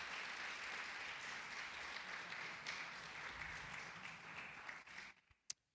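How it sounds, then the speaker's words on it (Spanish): A church congregation gives sustained, full applause during a Spanish-language sermon, a dense wash of clapping that holds steady, then thins out and stops, leaving a couple of isolated sharp knocks. "¿Qué tal si le damos un fuerte aplauso al Señor por todo lo que recibimos de parte de Él?"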